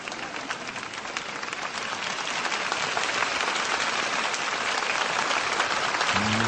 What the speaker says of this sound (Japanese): まだやっぱり地元ですから拍手が鳴りやみませんね。